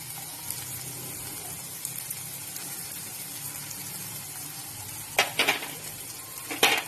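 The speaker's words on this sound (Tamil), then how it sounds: "அதையும் போட்டு நல்லா மிக்ஸ் பண்ணி வதக்கிக்கலாம்" Onion, tomato and garlic masala paste sautéing in a pan for garlic masala dosa, a soft steady sizzle throughout with a few sharp clinks of a spoon stirring against the pan near the end.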